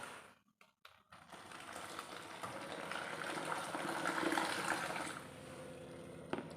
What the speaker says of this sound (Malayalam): ഞാനിത് വെള്ളം ഒഴിച്ച് നന്നായിട്ടൊന്ന് കലക്കിയിട്ടുണ്ട്.